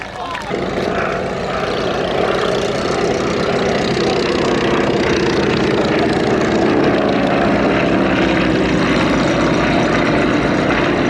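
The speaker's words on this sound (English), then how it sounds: "very, very rare aeroplanes indeed, these. Spartan Executives, manufactured by the Spartan Aircraft Company" A Spartan Executive propeller aeroplane flies over an air and car show, its engine roaring loud and steady, a broad droning buzz that holds throughout, with voices faintly underneath.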